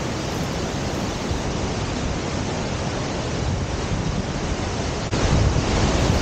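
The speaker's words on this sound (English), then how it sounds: "a huge gushing waterfall, as we see here in winter" Latourell Falls in winter, a huge torrent plunging about 224 feet, roaring as a dense, unbroken wash of white noise that swells slightly louder near the end, with no voices.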